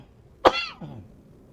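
A single sharp cough from a person, close and loud, followed by a short throat-clearing rasp, alone with no talk.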